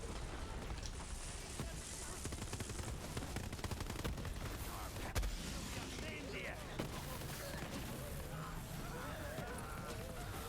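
Gunfire in the video game Borderlands 3: dense, continuous rattling shots and bursts with a few sharper blasts, running steadily throughout and mixed with game noise.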